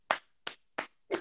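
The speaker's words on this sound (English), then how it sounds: "This hand clap is for you" One person claps hands four times at a steady, unhurried pace, each clap sharp and close by, with no other sound around them.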